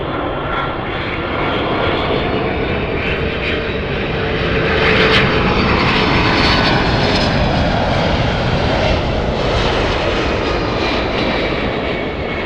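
A Delta jet airliner inbound from Atlanta passes at Los Angeles International Airport, a loud, steady, broadband engine roar that swells slightly midway and fills the whole stretch without any voices.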